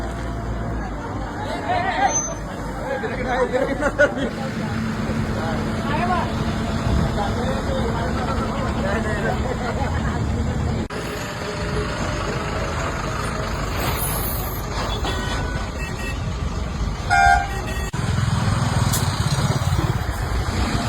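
A vehicle pulls away through a jammed road with trucks and buses nearby, air brakes hissing and horns sounding over a continuous murmur of crowd voices and engine noise, and people talk throughout.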